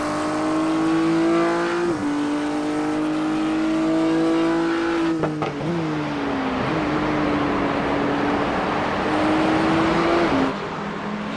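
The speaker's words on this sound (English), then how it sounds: "Hear the crack of the exhaust as he changes down." A GT3 race car engine roars at high revs, dropping in pitch with sharp exhaust cracks and pops on each downshift, loud and close throughout.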